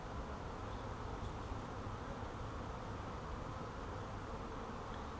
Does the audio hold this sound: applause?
no